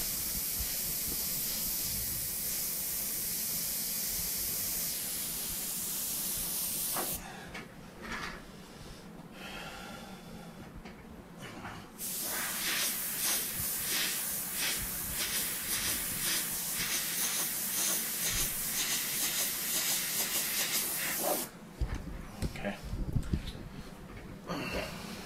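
Airbrush spraying paint in short dagger strokes for texture on a Kong artwork, a steady soft hiss broken by repeated bursts of airflow that start and stop.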